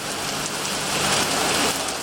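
Heavy monsoon rain pours steadily in Sindh, a dense, even hiss of drops striking surfaces, close and loud without pause and with no voices.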